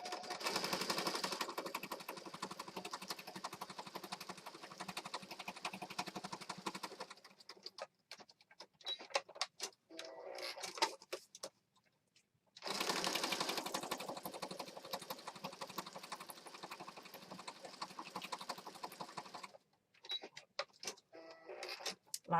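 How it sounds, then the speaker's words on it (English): A sewing machine stitches paper card onto a scrappy fabric scrap for a handmade pocket journal, with long steady bursts of rapid needle chatter broken by short pauses and stop-start stitching. "let's do some sewing"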